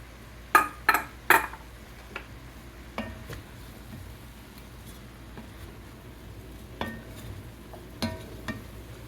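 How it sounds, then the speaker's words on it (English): Rice poured into a pot of mushroom, onion, garlic and sweet potato soup, a few sharp clinks and rattles against the pot at first, then sparse quiet ticks and stirring scrapes at close range. "And I'm also going to add the rice"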